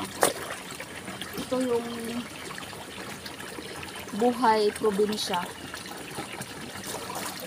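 Clear spring water in a rural province trickles and splashes gently and steadily while someone talks over it in bursts.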